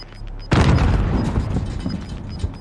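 A rocket launcher shot in Call of Duty lands as a single heavy boom with a sharp onset, then a rumbling, crackling tail that keeps going for about two seconds.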